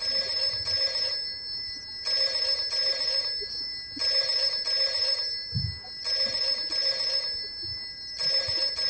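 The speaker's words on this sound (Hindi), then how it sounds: "तू टेलीफोन की घंटी बजा रहा है?" A telephone bell rings loudly in regular bursts, about one ring every second or two, with brief gaps of quiet between each ring.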